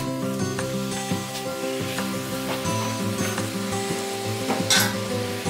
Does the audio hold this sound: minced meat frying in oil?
yes